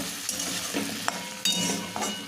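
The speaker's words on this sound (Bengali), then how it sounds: "এখন এই তেলের সঙ্গে একটু ভাজা ভাজা করে নেব" Thin-cut potatoes fry in oil with turmeric and salt, sizzling steadily up close as a spatula scrapes and stirs with occasional knocks against the pan; no one speaks.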